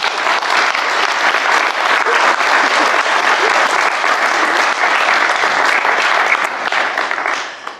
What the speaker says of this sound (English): I think everybody should give you a wee round of applause.